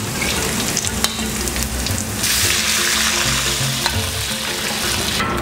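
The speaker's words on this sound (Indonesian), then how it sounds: "Setelah harum, kita masukkan bumbu yang tadi." Ground spice paste for a tofu and mushroom dish hits hot oil in a pan. Loud, continuous sizzling and frying swell midway as the paste is stirred, with occasional utensil scrapes and clinks.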